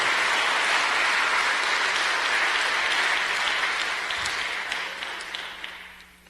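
Worshippers at a church sermon clap for the Lord, a loud, full round of applause that stays dense for several seconds and then tapers off toward the end.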